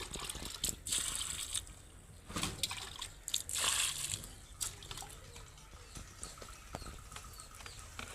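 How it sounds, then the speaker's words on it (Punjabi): Water poured into mud in an outdoor clay mud kitchen, faint splashing and sloshing with soft patters and drips, quiet and close. "ਪਾਣੀ ਪਾ ਦਿੱਤਾ ਮਿੱਟੀ 'ਚ"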